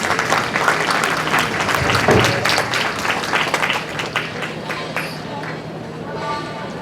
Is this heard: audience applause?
yes